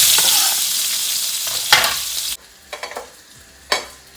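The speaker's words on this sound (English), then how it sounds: "And then goes in 2 onions that I've thinly sliced, and I'm going to cook until golden" Thinly sliced onions, garlic and red chilies frying in a pan: a loud, dense sizzle that suddenly drops to a quieter crackle, then a few sharp clinks and scrapes of stirring.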